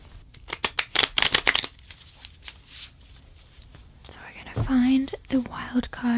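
Tarot cards are shuffled and handled at close range in a quick burst of riffling and flicking, then quieter rustling as a wild card is picked, with soft whispering over it.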